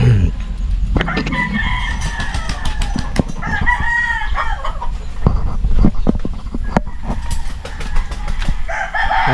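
Kanawayon gamefowl roosters crow repeatedly and cluck in a chicken coop, loud and close, with overlapping calls and scattered sharp knocks throughout.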